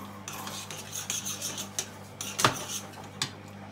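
A spoon scrapes around a pan of softening ingredients just splashed with white wine, for chicken à la king. Close, rhythmic rasping strokes come in quick succession, with one sharper scrape near the end and no talking.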